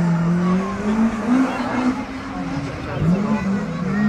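A rally car on a stage of the NW Stages rally near Blackpool, England, passes close by, its tyres squealing in long rising and falling whines over a loud engine roar, with a voice speaking faintly in the background.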